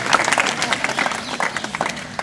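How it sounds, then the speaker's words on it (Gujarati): An audience claps during a felicitation ceremony. The applause is fairly close and lively, with sharp, uneven clap bursts that thin out slightly toward the end, and faint voices mixed in. "આપણે સૌને તાળીઓના ગડગડાટથી વધાવશું"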